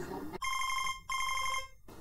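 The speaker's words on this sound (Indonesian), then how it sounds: "Ada telepon bunyi." An indoor telephone rings in two loud, close bursts of rapid trilling bell tones separated by a short pause, with a voice just before the first ring.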